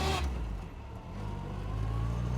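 A 1960 Bugeye Sprite sports car cruises along with a steady engine hum and road rumble, fairly quiet and continuous, with a brief bump in level near the start.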